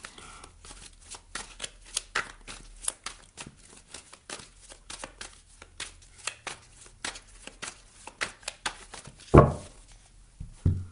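Tarot cards being shuffled by hand, a long run of crisp riffling flicks in quick, uneven bursts, close and clear, ending with a louder thump as the deck is set down.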